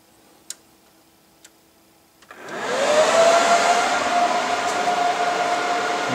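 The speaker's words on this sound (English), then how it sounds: "I'm going to go ahead and power up the server" An IBM xSeries server powers up after a few faint clicks, its cooling fans surging into a loud, steady high-pitched roar at full blast that holds without a break, with no voices over it.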